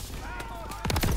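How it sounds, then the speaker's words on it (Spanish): Machine guns rattle in the Call of Duty WW2 video game, a rapid burst of close, loud shots erupting near the end under dense battlefield noise, with a shouting voice in the background. "¡Estas ametralladoras nos destrozan!"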